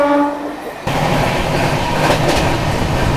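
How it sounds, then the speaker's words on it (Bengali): The Golden Temple Mail train sounds its horn in a steady tone, then breaks into a loud, close rattle and clatter of carriages jolting along the track, continuing unbroken to the end. "ট্রেন হঠাৎ করে ঝাঁকিয়ে উঠলো কেন রে ভাই?"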